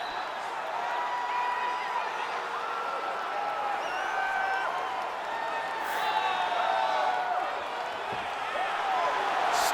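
Capacity arena crowd at a UFC heavyweight bout between Stipe Miocic and Kimbo Slice in the video game UFC 5, a steady broad murmur and cheer of many voices holding evenly throughout, with faint scattered claps.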